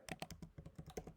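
Quick typing on a Mac keyboard while entering a terminal command, about a dozen crisp close key clicks in a fast, uneven rhythm.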